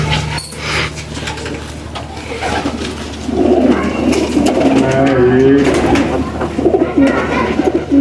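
Pigeons in a loft belonging to Ustad Azad Butt coo in low, throaty rolling calls, loud and close, with a steady background hum and some faint talk in the mix.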